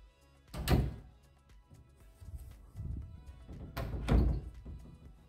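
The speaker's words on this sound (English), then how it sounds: "So we have the large closet with the double doors." Large double closet doors in a home are opened and closed, giving two solid, close thuds with softer knocks and rattles between them.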